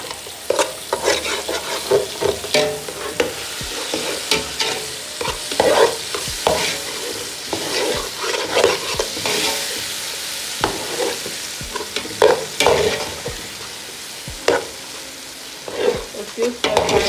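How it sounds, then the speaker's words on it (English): Tomato egg sauce stir-frying in a pot at home, with a steady sizzle and repeated scraping strokes of a spoon against the pot, close and continuous with no talking. "you just have to be stir frying to ensure that this doesn't burn"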